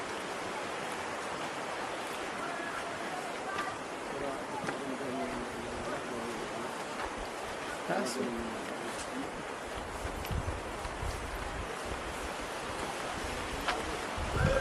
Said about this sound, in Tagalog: Nandito tayo sa Marulong Falls.